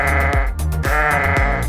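Sheep on a farm bleat loudly and close, several wavering calls following one another with no one talking.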